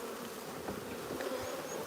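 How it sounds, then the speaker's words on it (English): Honeybees shaken out during a nuc transfer buzz around the hive, a steady soft swarm hum with individual bees droning past close by. "The bees are shaken out."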